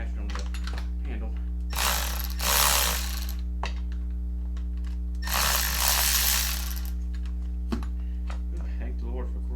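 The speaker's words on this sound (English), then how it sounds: "Thank the Lord for cordless power tools." A cordless power tool whirring in two loud bursts while parts are removed from a STIHL MS 290 chainsaw during a deep clean, with small clicks and handling noises around it over a steady low hum.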